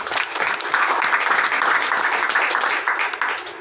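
Audience applause during an office business presentation, a dense, even burst of many hands clapping close by for several seconds, with no speech over it.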